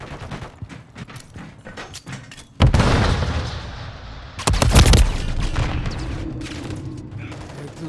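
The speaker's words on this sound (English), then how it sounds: "I'm taking fire" Heavy Call of Duty Modern Warfare 3 gunfire erupts in loud, close booming bursts, two big volleys with rapid shots and mechanical clatter between, over brief in-game chatter.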